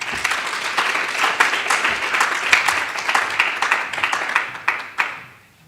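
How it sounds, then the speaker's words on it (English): An audience applauds at a university public health division launch event, a dense, steady clapping from a sizable crowd that stays loud throughout and then fades out at the end. "Can we give him another round of applause?"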